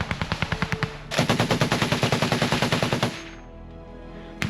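Machine gun fire from a Ukrainian soldier in combat, a rapid string of sharp, loud bursts that grows denser and heavier midway, then stops abruptly with a lingering ring.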